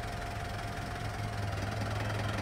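A diesel car engine idles at low RPM with a steady, low rumbling hum and a faint knocking pulse, close and continuous, with no talk over it.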